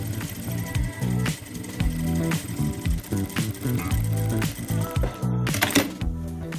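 A sewing machine fitted with a hemming presser foot stitches in fast, rhythmic mechanical bursts, its motor whirring close and loud with short pauses between runs.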